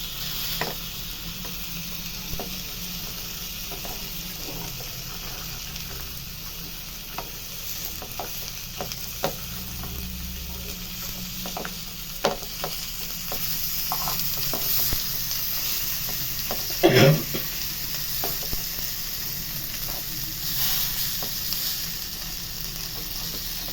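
Spicy fish tava fry sizzling steadily on a hot tava, a continuous close frying hiss with a few sharp crackles and a brief louder flare partway through, no voices.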